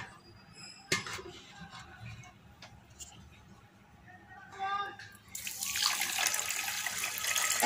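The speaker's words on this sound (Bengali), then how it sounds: "আর এই কাপেরই 1 কাপ পানি দিয়ে দেব।" A cup of water is poured into a pan of sugar to make syrup. After a few quiet clinks and a faint voice, a splashing pour rises sharply and continues for the last couple of seconds.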